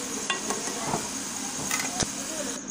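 Potato chips fry in oil over medium heat with a continuous crackling sizzle and occasional stirring clinks, while someone talks over the cooking.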